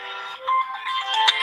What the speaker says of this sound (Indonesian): Bentar ya nakku, ada telepon.